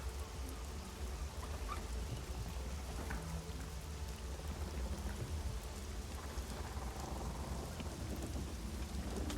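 A rain and thunder weather sound effect plays steadily, dense rainfall hissing on surfaces with low rumbling thunder beneath, continuous and even with no talking.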